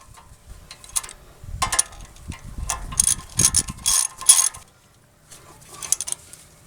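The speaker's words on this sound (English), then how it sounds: "And then we can get these caliper bolts snugged down." Brake caliper bolts on a 2000-2006 Toyota Tundra being snugged down with a ratchet, giving bursts of quick metallic clicking and ratcheting close up, with short pauses between runs of turns.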